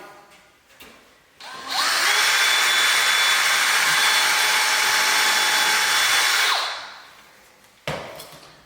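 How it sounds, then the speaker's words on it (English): A power drill bores a screw hole for a pocket door lock, spinning up loudly for about five seconds in one continuous whirring run before winding down, close and with no speech. "now we'll go ahead and drill our bottom one"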